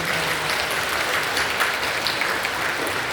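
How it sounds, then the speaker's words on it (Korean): A church congregation applauds during a Christmas service, steady dense clapping filling the room for the whole stretch, fairly loud and without pauses. "다시 한번 박수 해주시죠."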